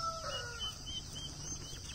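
Turkey tom gobbling outdoors among a farm flock, with a rough, rolling call riding over steady background bird noise, moderately distant and not very loud.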